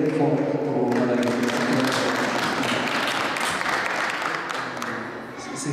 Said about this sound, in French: Je vous demande d'applaudir très fort pour mon ami